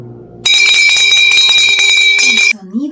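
A loud electric bell rings continuously for about two seconds with a bright metallic clatter, then cuts off abruptly.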